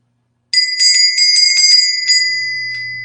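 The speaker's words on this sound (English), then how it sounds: "We use the bell to summon the fairy." A small bell rings in quick repeated bursts, a bright metallic jingle that sounds to summon a fairy, then fades into a lingering ring with a low hum underneath.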